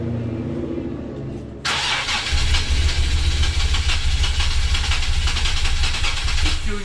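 A Nissan 370Z engine with an improperly installed flywheel cranks without catching, a loud, steady grinding churn of the starter that kicks in abruptly and continues droning evenly to the end.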